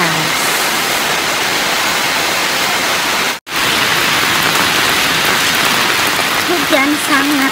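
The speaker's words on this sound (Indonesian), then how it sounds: "Tapi hujannya sangat deras." Heavy rain pours down in a steady, loud hiss, dense and unbroken apart from one brief cut, with a voice speaking faintly beneath it toward the end.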